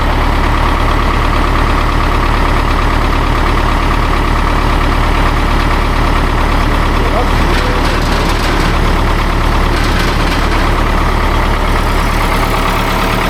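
Massey Ferguson MF35 tractor engine idling after sitting for over a year, a loud, steady, close diesel chug with a low rhythmic knock that holds throughout with no talk.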